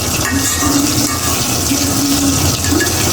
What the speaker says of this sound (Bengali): মাছটি ভাজি করবো এই চলে মাছ ভাজি দিয়ে দিছি